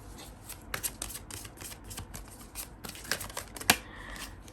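Tarot cards being shuffled by hand, a close, crisp run of riffling and flicking bursts with sharp snaps, heard alone with no voices.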